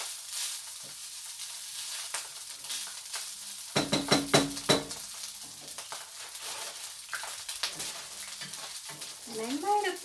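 Food frying in too much oil in a pan while casamiento and tacu tacu are cooked, a steady close sizzle with brief clattering bursts of stirring and turning, and a voice speaking faintly near the end.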